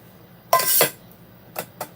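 A stainless steel camp cookware kit clinks and clatters once in a sharp metallic burst, followed by two lighter taps, close by in a quiet room.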